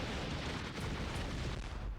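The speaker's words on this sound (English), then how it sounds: "you can tell the game has a lot of explosions everywhere" Dense, continuous explosions and booms from the platformer video game ANTONBLAST, a loud, steady barrage of blasts and rumbling with no speech.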